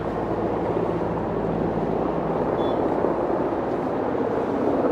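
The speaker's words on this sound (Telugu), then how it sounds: "సౌండ్ వినపడుతుంది కానీ హెలికాప్టర్ కనపట్ల" A helicopter flies nearby out of sight, near a VVIP helipad along a road trip from Prayagraj to Ayodhya, giving a steady, continuous broadband engine and rotor rumble that holds at even loudness throughout with no talk.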